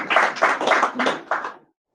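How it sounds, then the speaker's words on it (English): A brief round of applause from a small audience after a Go programming demo, a few quick bursts of clapping over about a second and a half before it stops abruptly. "Hello world always deserves a round of applause"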